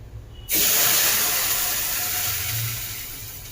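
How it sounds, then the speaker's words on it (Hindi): Sudden loud hiss bursts in after a brief quiet moment as milk hits a hot pan for tempering, then a steady sizzling that slowly fades. "जब हम दूध डालते हैं ना तो एकदम अच्छे से आवाज आनी चाहिए, अच्छे से तड़का लगना चाहिए"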